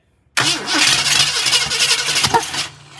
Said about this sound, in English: Still popping through the carb.